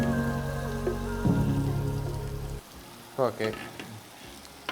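Marinated chicken added to a hot pan with tomatoes in a Kerala-style chicken curry, starting with a loud, steady sizzle and frying hiss that drops sharply partway through, followed by brief stirring clatter and a short spoken word.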